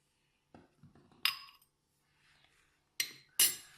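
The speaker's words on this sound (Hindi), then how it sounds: "अब हमने सब मसालों को अंडे में अच्छे से मिक्स कर लिया है" A spoon stirs spices such as garlic, chaat masala and white pepper into egg in a bowl, making a few sharp, separate clinks and scrapes against the bowl with quiet pauses between them.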